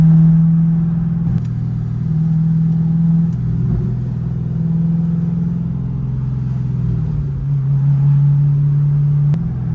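An LS V8 swapped into a Porsche 993 RWB rumbles with a deep, steady low throb, loud and close, swelling slightly as it revs, with no voices over it.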